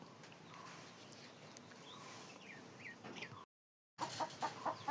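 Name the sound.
chickens clucking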